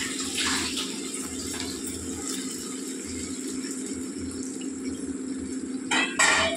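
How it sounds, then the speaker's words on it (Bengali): Water is poured into a pan of tomato ketchup on the stove, making a steady, fairly loud splashing pour that runs for several seconds and then brightens into a harsher burst near the end. "এবার এতে না একটু হালকা জল দেবো"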